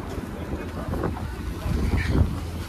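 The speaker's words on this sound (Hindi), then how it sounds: "काफ़ी हवा चल रही है यहां पर," Strong wind blowing through a mountain valley at Spiti, roaring and buffeting the microphone in low gusts that swell toward the end, loud and close, with faint voices underneath.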